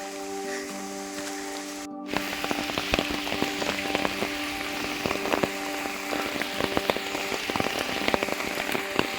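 Rain falls steadily on surfaces outdoors at Kuttikkanam, a dense patter of drops with sharper close splashes, continuous and fairly loud after a brief cut near the start, with no voices.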